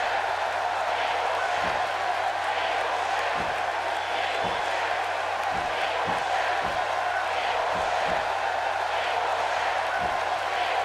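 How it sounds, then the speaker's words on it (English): Arena crowd noise in the WWE 2K18 wrestling video game, a broad steady roar of cheering with scattered thumps, continuous and fairly loud. "Hear the crowd, the ovation."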